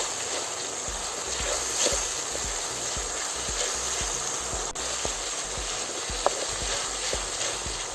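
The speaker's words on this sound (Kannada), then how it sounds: "ಟೊಮೆಟೊ ಮೆತ್ತಾಗಂಟ ಫ್ರೈ ಮಾಡ್ಕೋಬೇಕು" Tomatoes fry over a low flame, giving a steady soft sizzle with small crackles and pops throughout, with no voices.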